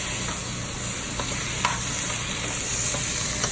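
Sauce, about half a can, bubbles and sizzles in a deglazed pan as a utensil gives it a good stir, with a constant close hiss broken by a few light scraping clicks against the pan; no voices.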